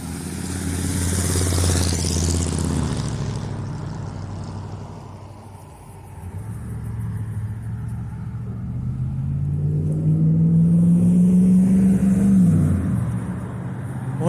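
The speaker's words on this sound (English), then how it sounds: "Boy, downtown is noisy." Car traffic rumbling through downtown Winfield, Kansas, with steady engine drone and a vehicle passing close by, rising and falling in a continuous street-level din.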